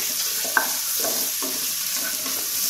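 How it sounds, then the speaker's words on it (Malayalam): A single onion sautéing in a little oil for a Kerala-style country chicken curry, a continuous close hiss and sizzle with several soft scraping stirs and one sharp clink of a utensil, no voices. "വേഗം ഒന്ന് നല്ലപോലെ വഴറ്റി കിട്ടാൻ വേണ്ടിയിട്ട്"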